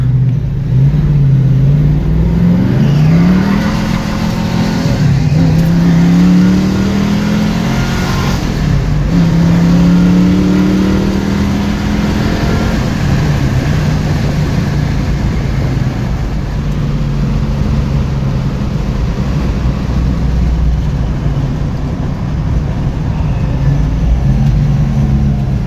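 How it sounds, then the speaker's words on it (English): A 1965 Ford Mustang Fastback C-Code Shelby clone with a 4-speed pulls through gears on a test drive, its engine revving up and dropping repeatedly, loud and steady throughout with a loose fan belt. "65 Mustang, Fastback, C-Code, Shelby clone. Going for a test drive, which would be fun. It's a 4-speed"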